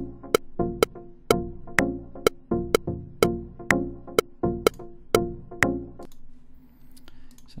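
Sharp percussive clicks in a steady, even beat, about a dozen of them, ending in a low sustained tone.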